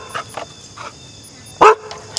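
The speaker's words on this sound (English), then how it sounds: "We got some dogs here in the background." Several dogs bark in the background during a drone unboxing, with short separated barks and one louder, nearer bark near the end, all fairly distant.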